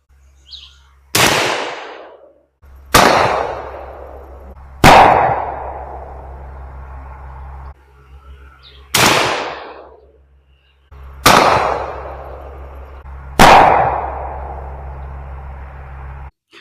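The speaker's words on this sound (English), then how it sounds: "We'll shoot the left barrel first with these Federal Shorties." A 12-gauge shotgun firing Federal Shorty No. 4 buckshot shells outdoors, six loud sharp blasts spaced a couple of seconds apart, each with a ringing decay and echo.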